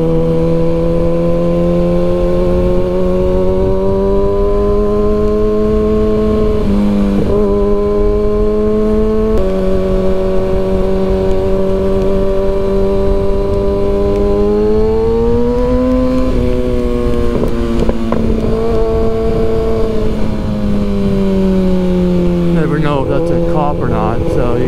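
Kawasaki ZX-6R motorcycle engine revving while riding, a loud high-pitched whine that holds steady, rises and falls with throttle changes and shifts between gears, with wind noise throughout.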